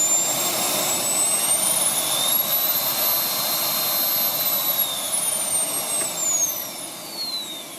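Samsung vacuum cleaner switched on at minimum speed after a repair of its burnt power-button contact, a steady close whine with a high tone that climbs and then slowly falls, with no talking.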